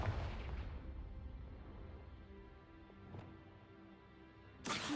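Confringo fire-blast spell cast in Hogwarts Legacy: a faint whooshing pop near the middle, then a sudden loud broadband burst at the very end over a low, quiet ambient hum.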